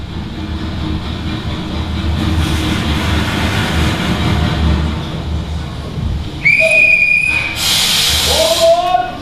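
A stage sound effect of a train pulling into a station: a broad rumbling hiss that builds, then a steady tonal whistle with a brighter burst of steam near the end.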